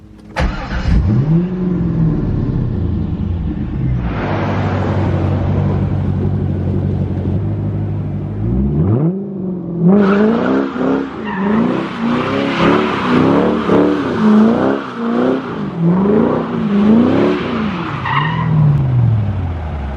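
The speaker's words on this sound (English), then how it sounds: "Let's back it out, drive it around to the other garage" A powerful C5 Corvette engine starts and idles, then revs repeatedly as the car backs out and pulls away, the throaty exhaust rising and falling close by.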